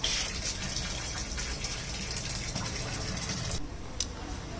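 Steady gushing of water pouring from a tap into a small balcony guppy pond, a continuous broadband rush that cuts off briefly near the end.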